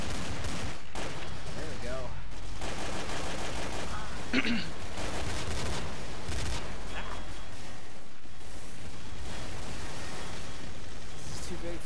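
Steady video game gunfire rattles through a gun game match on a small multiplayer map, shots stacking in quick bursts under a voice talking throughout.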